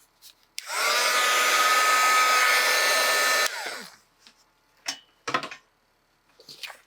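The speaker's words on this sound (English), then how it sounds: "I'm going to go ahead and heat set it right now" A heat tool sets embossing powder on a handmade card, blowing a loud, steady whirring rush for about three seconds before cutting off, followed by a few faint clicks and handling sounds.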